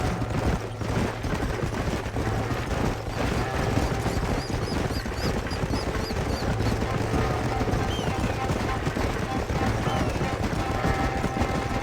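Horses clip-clopping along a trail in the video game Red Dead Redemption, steady hoofbeats under talk and game sounds, with a few brief high chirps in the middle.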